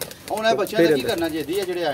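Pigeons being let out of their loft coo in throaty, rolling phrases close by, overlapping with a voice talking.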